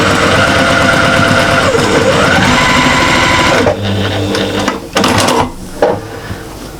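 Sewing machine stitching quilt squares together with a 1/4 inch seam, a loud steady mechanical whir for several seconds before it slows into shorter, broken bursts and pauses.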